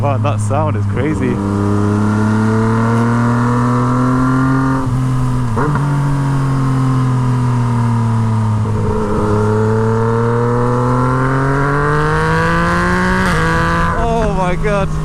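A Yamaha MT09 motorcycle fitted with a straight-pipe Toce exhaust pulls hard and loud, its engine pitch climbing and dropping through several gear changes, with a rider's voice over the sustained roar.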